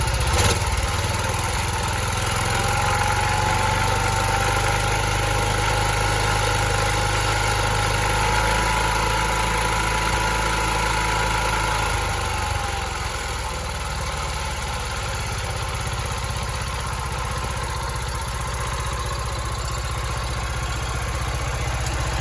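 A John Deere 216 garden tractor engine runs steadily for a long stretch, its throttled-up drone loud and close, then dropping slightly in pitch partway through, with no voices.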